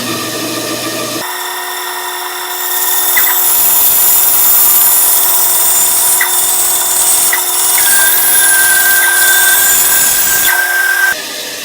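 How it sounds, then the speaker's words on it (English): Bandsaw cutting a traced contour out of a wooden board, a loud steady whine and blade hum with the rasp of the cut rising once the wood meets the blade, then the motor running on alone, close up. "Now I'll cut that contour out on the bandsaw."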